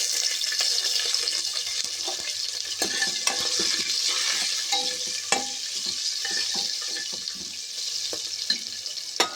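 Mutton curry stirred in a frying pan, with a spoon scraping and clinking over a steady sizzle and irregular knocks against the pan, close and with no talk.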